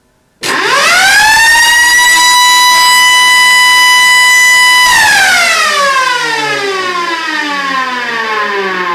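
A homemade hand-cranked wooden siren winds up to a loud, steady howl of layered tones at full speed, then slowly drops in pitch as it winds down.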